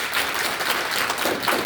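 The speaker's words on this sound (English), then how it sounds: "Let's give them another round of applause." An audience at an entrepreneur pitch event gives dense, sustained applause, many hands clapping at a loud, even level throughout with no speech.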